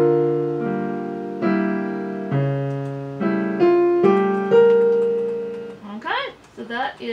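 A solo piano plays three measures of a jazz piece, clear sustained chords struck one after another in a steady rhythm and left to ring, followed by a voice speaking at the end.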